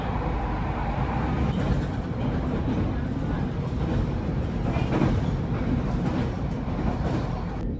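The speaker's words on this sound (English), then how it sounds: "I took a train to the airport" A train to the airport in Miyazaki, Japan runs with a steady rumble and a soft clatter of wheels, a constant loud drone from inside a carriage.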